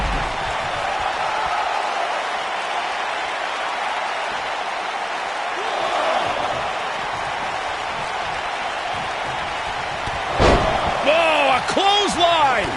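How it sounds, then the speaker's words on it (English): A wrestling slam in WWE 2K19 lands with a dull body impact amid a steady, loud crowd roar, and a burst of cheering swells near the end. "And she slams her back down."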